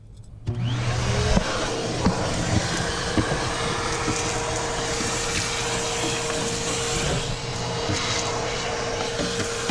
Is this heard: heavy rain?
no